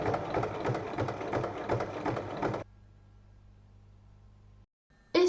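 A sewing machine runs steadily, stitching a tote bag appliqué all around with a fast, close, even hum and needle chatter, then stops abruptly, leaving a faint low hum before a short burst resumes.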